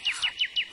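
A songbird, a nightingale, gives four quick, evenly spaced descending chirps, clear and fairly close against a quiet background.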